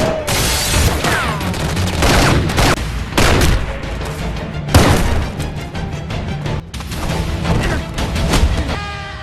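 Loud, dense gunfire from a film shootout against bodyguards: rapid overlapping shots and heavy booming bursts crowd the whole stretch, with a few brief lulls between volleys.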